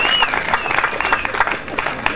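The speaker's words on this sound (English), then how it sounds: "Please give him some sort of applause, because he certainly put in the effort." Crowd applause at the Nimbin MardiGrass parade float awards, a steady wash of outdoor clapping with voices mixed in beneath it.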